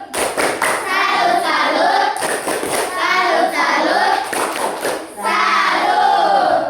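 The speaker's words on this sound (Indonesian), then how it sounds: "yang boleh kasih tepuk salut buat kelompok 2. Tepuk salut" A classroom group gives a rhythmic 'tepuk salut' clapping cheer for group 2, with bursts of patterned hand claps and chanted voices repeating in waves, loud and close throughout.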